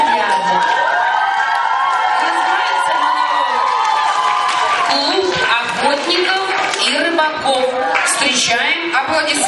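A children's summer-camp talent festival audience cheers and applauds loudly for a monologue performer, with excited shouts and whoops in a continuous, dense roar lasting the whole stretch.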